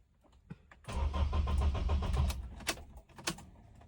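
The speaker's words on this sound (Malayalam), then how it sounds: "ഇതാണ് കംപ്ലൈന്റ്, വണ്ടി അങ്ങോട്ട് സ്റ്റാർട്ട് ആവണില്ല" A motorcycle with a starting fault cranks for over a second, whirring rhythmically before cutting out, followed by a few short clicks and bursts as it fails to catch.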